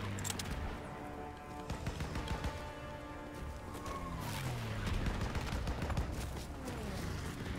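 Rapid bursts of gunfire in Call of Duty: WWII crackle continuously, dense and loud, with booming impacts layered over a steady busy background.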